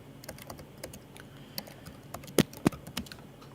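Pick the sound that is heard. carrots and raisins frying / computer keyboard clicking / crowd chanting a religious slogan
computer keyboard clicking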